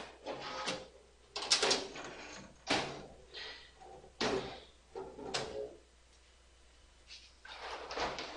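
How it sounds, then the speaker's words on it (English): A door is shut with a series of sharp bangs and thumps close by. Several knocks and clatters come at irregular intervals, with short quiet gaps between them. "I will go there and close the door"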